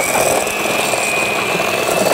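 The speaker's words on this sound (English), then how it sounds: "Egg beater." An electric egg beater whirring steadily at its lowest setting during cookie baking, a loud continuous motor hum with a high whine, close and unbroken with no talking.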